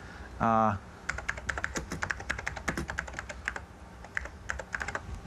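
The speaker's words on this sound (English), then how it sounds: "Now we can type into it" Typing on a computer keyboard into a HyperCard stack: a fast, uneven run of close key clicks, briefly preceded by a short tonal beep.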